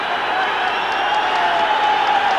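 Large football crowd of around 10,000 at Rugby Park for a promotion match, a dense, steady roar of massed voices filling the stadium without pause.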